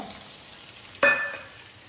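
Chopped onion drops into hot oil with popped mustard seeds, making a sudden close sizzle burst that fades over a second.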